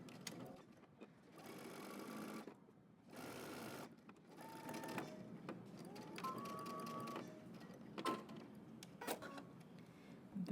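A home sewing machine stitches a garment seam with backstitching, running in several bursts of rapid whirring separated by short pauses, close and clear, with soft handling clicks between runs.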